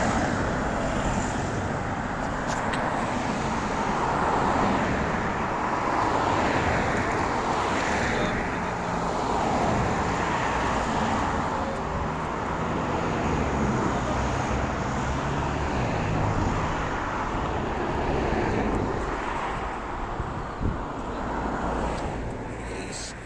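Dense road traffic streams past near Porriño in Galicia, a continuous broad roar of many cars going by close up, with slight swells as individual vehicles pass and occasional voices in the background.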